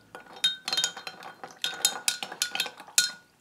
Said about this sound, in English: And we're going to give it a bit of a stir.